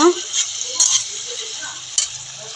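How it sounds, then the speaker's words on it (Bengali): Potatoes and green chillies fry in a pan, a close, steady sizzle with light stirring scrapes and a couple of soft clinks. "কাঁচা লঙ্কা দিয়ে দিচ্ছি কয়েকটা, আর আলুগুলো দিয়ে দিব, দিয়ে ভালোভাবে আবার একটু কষিয়ে নিব"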